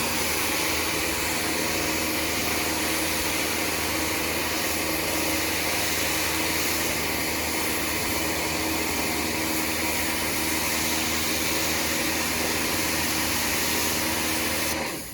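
Pressure washer fitted with a 25-degree nozzle blasting snow foam off a car, a loud, continuous close-up hiss and roar lasting throughout without a break.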